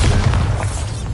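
A Bombarda explosion spell from the Hogwarts Legacy video game bursts in a loud, close, rumbling boom that fills the whole short moment with dense low-end roar.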